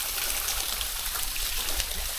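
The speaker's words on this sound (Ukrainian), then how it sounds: "Просто з цієї скелі падає вода." Water falling from a rock cliff near a canyon, a steady rushing and splashing, constant bright hiss with no pauses, heard fairly close.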